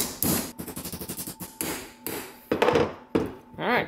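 A hammer taps a metal piece into a circular shape for a homemade engine crankcase: a quick run of light, regular ringing taps followed by several heavier separate blows, with short bits of speech between strikes.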